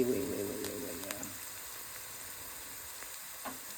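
Curry powder frying in oil on a stovetop turned down low, a soft steady sizzle with a brief louder burst at the start, fading to a faint hiss with light clinks.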